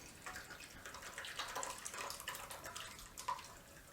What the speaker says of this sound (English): I pour the curds in and let it slowly drain off.